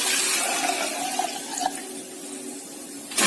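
Water is poured into a clay pot as a brief, close gurgling splash that fades after a couple of seconds, with no talking.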